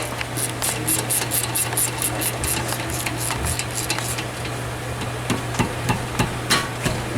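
Rapid metallic clicks of a 14mm ratcheting wrench tighten bolts on the front brakes of a 2009 Hyundai Genesis, close and sharp over a steady low hum, with a few scattered knocks afterward.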